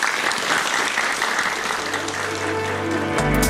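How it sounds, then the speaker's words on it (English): An audience claps steadily for several seconds at close range, with the applause filling the whole stretch. "Can we have a round of applause?"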